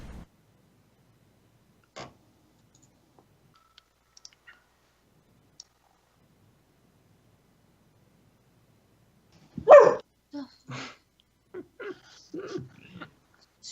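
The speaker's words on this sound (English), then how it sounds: "Sorry, my dogs are barking." Dogs barking at home: a few faint scattered yips early, then a loud burst of several sharp barks close by, followed by a handful of quieter barks and whimpers.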